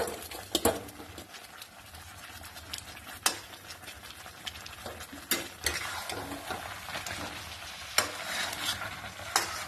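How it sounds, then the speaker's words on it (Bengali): Pieces of meat frying in a hot pan, with a steady sizzle beneath sharp scrapes and knocks of a spoon stirring against the pan at irregular intervals, close and fairly loud throughout. "এবারে আমি মাংসগুলো দিয়ে দিচ্ছি।"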